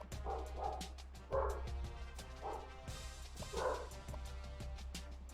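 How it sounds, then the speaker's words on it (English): Several dogs barking outdoors at a moderate distance, in short irregular bursts of barks and yips spread across several seconds over a steady low hum, with no talking. "There go my dogs."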